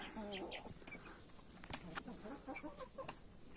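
Several hens cluck and chatter close by in short, irregular bursts, with rustling in the background.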